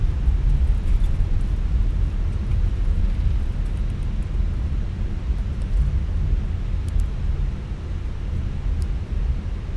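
An Airbus A320 in a flight simulator roars under reverse thrust during landing at Zurich, giving a steady, loud, broadband rumble with no speech.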